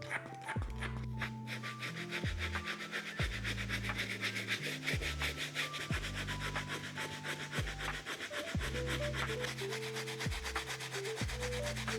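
Wet brush with cleaning foam scrubbing dirty canvas sneakers, a steady run of rhythmic back-and-forth rubbing strokes, close and fairly quiet with no talk.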